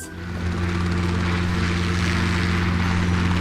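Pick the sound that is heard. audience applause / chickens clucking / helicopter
helicopter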